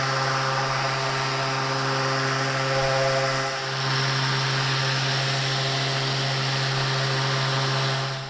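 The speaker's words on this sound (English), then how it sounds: "We're going to use the sander with 320 sandpaper. Give it a light sanding." A power sander fitted with 320-grit paper runs over a walnut side table, a loud steady whining drone with a dip near the middle, then the motor winding down at the end.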